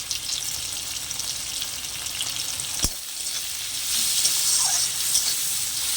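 Pumpkin curry with salt and turmeric stirred in a pan, giving a steady close sizzle with scraping and frying noise throughout, a sharp clink near the middle and the frying growing a little brighter toward the end.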